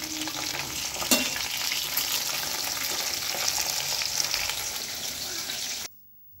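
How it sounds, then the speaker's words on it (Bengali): Fish frying in a pan at home, a steady close sizzle and crackle of hot oil with a sharp stir or clatter near the start, running unbroken until it cuts off abruptly near the end. "মাছটাও ভাজতে দিয়ে দিয়েছি।"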